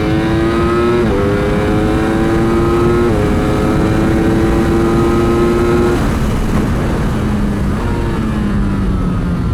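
A Ducati Streetfighter V4S motorcycle screams loud and close on a race track, engine pitch climbing through gears with quick dips at each shift before the revs settle lower near the end.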